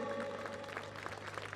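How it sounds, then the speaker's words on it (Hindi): Audience applause honoring donors at a Hindi-speaking gathering, a faint, steady patter of many hands clapping with a low background hum. "जोरदार तालियां एक बार सभी दानदाताओं के लिए।"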